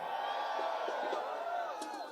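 A samba school crowd in the Anhembi sambadrome in São Paulo shouts and cheers together, a dense roar of many voices sustained throughout the moment.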